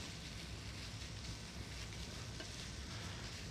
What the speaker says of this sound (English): then we're gonna stir this kale in to incorporate the flavors